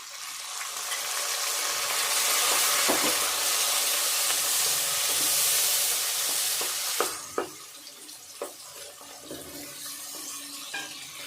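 Onion, garlic and tomato sizzle steadily in a pan for several seconds, then the frying hiss drops away, leaving sharp scrapes and knocks of a spoon stirring against the pan.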